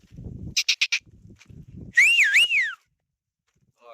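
A person whistles to herd sheep, a few short sharp chirps and then a long, loud, warbling whistle, with low scuffling outdoor noises between them.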